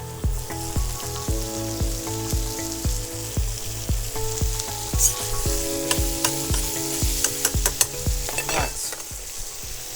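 Penne with avocado sizzles loudly in a hot pan while being stirred, with a constant close crackle and repeated scraping strokes. A voice briefly speaks over the cooking.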